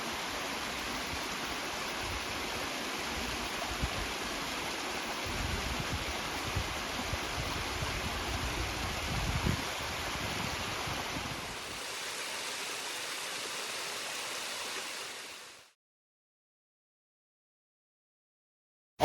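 Steady rushing water of a waterfall along a logging road, a broadband roar that holds loud and even for about twelve seconds, then softens and thins before cutting to silence.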